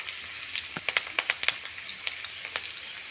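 Onions fry in oil for a chicken curry, giving a steady soft sizzle with small crackling pops, close and fairly quiet, with no talking.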